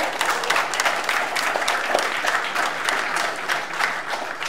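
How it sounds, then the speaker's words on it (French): Audience at a Pivotal Paris 2019 tech conference talk breaks into sustained applause, a dense steady patter of many hands clapping at once that holds evenly throughout without speech. "On peut aussi l'applaudir."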